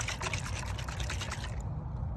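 Water pours and trickles out of an old, waterlogged boat trailer light removed from its trailer, a steady close splashing dribble that stops abruptly near the end.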